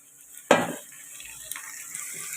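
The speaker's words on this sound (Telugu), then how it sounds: "బంగాళదుంపలు ఎలా ఫ్రై అవుతాయి కదండి" Potato pieces added to a pan of fried onions for potato tomato curry: one sharp clatter of pan and spoon, then a soft, steady sizzle with light scraping.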